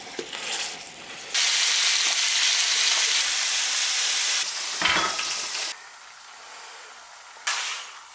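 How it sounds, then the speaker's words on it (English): Ground beef sizzling and frying in a pan for spaghetti sauce, loud bursts of crackling that swell and drop as the meat is stirred, with a brief clink partway. "As the meat is cooking, we're gonna go ahead and season it up some."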